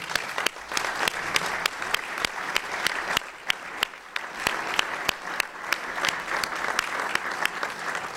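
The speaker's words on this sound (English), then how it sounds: "I just wanted to have a full round of applause for John Bloom" A full round of applause at a National Press Club luncheon, steady crowd clapping with a few sharp, close claps standing out above the rest.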